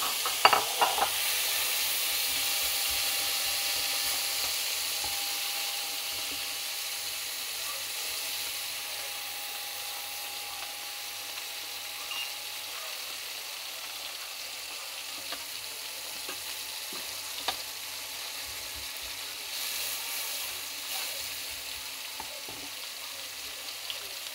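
Potatoes fry in a pan at home, a steady close sizzle running throughout with faint scrapes and clicks of stirring, and no talking.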